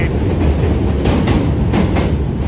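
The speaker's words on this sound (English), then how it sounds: "It's an N train." A New York City subway N train crosses a bridge in the Brooklyn area, close and loud, with a heavy rolling rumble and rhythmic clatter of wheels over rail joints that carries on steadily.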